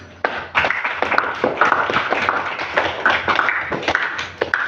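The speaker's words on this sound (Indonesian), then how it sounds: "Berikan aplaus kepada saudara Ismail" Classroom applause for a student named Ismail, a burst of many hands clapping steadily at close range for several seconds, with faint talk underneath.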